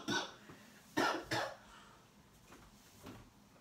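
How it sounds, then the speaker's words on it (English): Several coughs from someone with a persistent cough, two strong close bursts near the middle and a few fainter ones before and after, alone with no talk. "I got non-stop coughing 24/7"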